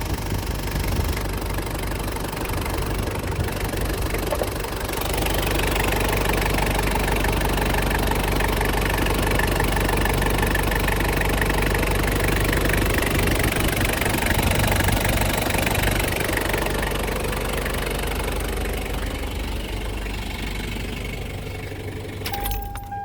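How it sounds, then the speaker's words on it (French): A Toyota Hilux Surf with a 1KZ-TE turbo diesel idling, a loud, steady, clattering diesel rumble with a knocking edge, heard close and alone from start to finish. "Ces petits diesels-là sont quand même bruyants."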